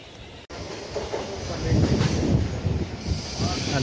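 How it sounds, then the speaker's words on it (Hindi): A train pulling into a Mumbai railway station, a rising rumble with rattling wheels and wind buffeting, growing louder and nearer. "आई क्या ट्रेन है?"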